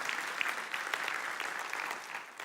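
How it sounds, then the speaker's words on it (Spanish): A church congregation claps during a sermon, a dense, even patter of many hands lasting a couple of seconds at moderate volume with no voices. "Denle un aplauso fuerte al Señor si se lo merece"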